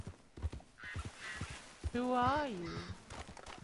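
Horse hooves clip-clop with irregular steps in a video game, low beneath a voice, while another speaking voice rises and falls over them.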